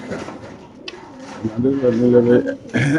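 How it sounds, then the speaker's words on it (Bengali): Female racing pigeons from a racing club coo in soft, throaty, rolling calls at close range, mixed with people talking nearby. "সবগুলা বিআরপিসি ক্লাবের মাদি কবুতর"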